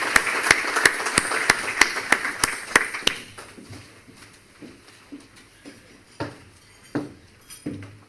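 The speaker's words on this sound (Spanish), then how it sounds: "Así que un nuevo aplauso para ella" A breakfast event audience claps for a speaker: a few seconds of brisk, close applause that thins into scattered individual claps and faint clinks of dishes.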